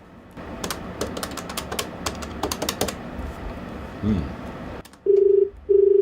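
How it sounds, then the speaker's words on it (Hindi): A run of quick phone keypad presses, followed by a brief pause and then two long electronic tones from a phone line. "फ़ोन मिलाऊँ इनको, मिलाओ जी।"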